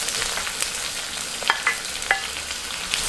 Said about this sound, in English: fry the onions in the oil